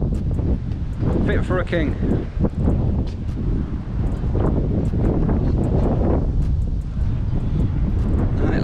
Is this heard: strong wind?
yes